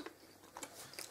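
Close, quiet chewing of chocolate in an ASMR setting: a few soft, wet, crunchy mouth sounds over about a second, with no talking.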